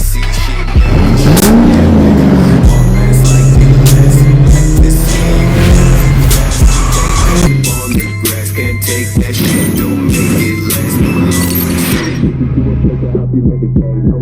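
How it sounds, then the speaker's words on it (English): A supercharged 2-valve New Edge Mustang, 1999–2004, racing: a loud, close engine revving and accelerating with a throbbing roar that rises and falls through gear changes, continuous throughout. "I also have a lot of racing with my supercharged 2-valve, which you see right there"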